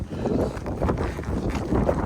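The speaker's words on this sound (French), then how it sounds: "Là, il y a du vent, je sais pas si tu m'entends." Wind buffets an outdoor microphone with a loud, continuous low rumble and gusty swells, rough and close throughout.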